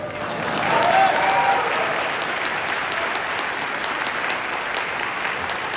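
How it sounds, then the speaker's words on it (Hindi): An audience at a motivational business talk claps, a dense wash of applause that swells in the first seconds and then carries on steadily at a slightly lower level. "मुझे लगता है ताली कम बज रहा है कि हम कम सुन रहे हैं"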